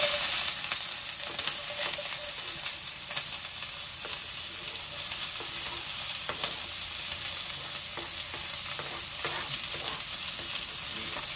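Garlic, onion and tomato fry in a pan for huevos ahogados, giving a loud, dense, continuous sizzle with faint stirring taps scattered through it.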